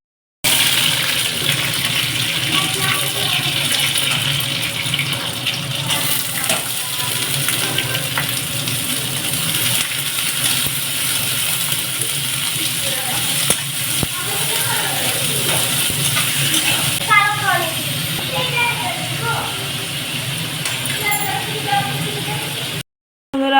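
Fish with potatoes, onion, garlic and black cumin frying in a home kitchen, a loud, steady sizzle throughout with occasional clinks of a utensil and a faint voice.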